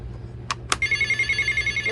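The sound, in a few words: traditional telephone ring from a toy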